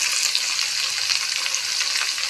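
Winter radishes sizzle and crackle in a hot pan, a steady close frying hiss with faint stirring scrapes throughout.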